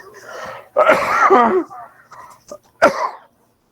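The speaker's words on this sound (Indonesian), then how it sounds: "Izin batuk dulu." A single sharp cough bursts out close up, followed by a brief throat-clearing sound and a short second cough, with quiet breathing between.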